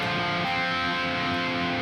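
Electric guitar strumming a minor shell chord, with a sustained, ringing harmonic tone that holds steady and fairly loud for under two seconds, no voice present.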